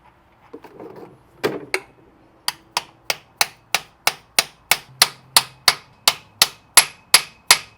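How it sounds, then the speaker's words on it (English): Hammer blows on a socket drive bearings into a Ferrari 456 front timing cover during an engine rebuild: about fifteen sharp, evenly spaced metallic taps, growing slightly louder, after some brief handling noise at the start. "just gently tap them in with our socket and a hammer"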